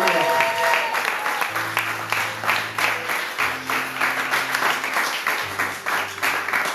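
A church congregation applauds steadily throughout, dense clapping filling the space, while a low sustained organ or keyboard tone plays underneath.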